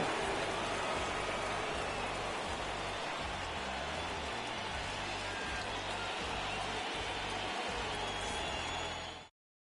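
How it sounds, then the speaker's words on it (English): Rain pours steadily over a ballpark in an MLB The Show 22 baseball game, a dense continuous hiss with low rumbling underneath that stops abruptly at the end. "The rain is here, and it doesn't look like it's going away anytime soon."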